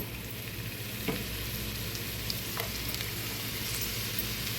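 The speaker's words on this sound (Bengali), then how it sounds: "এখন পেঁয়াজটা একটু ভেজে নিব" Chopped onion frying in oil in a frying pan for a pabda fish bhuna, giving a steady, close sizzle throughout with a couple of faint clicks from stirring and no talking.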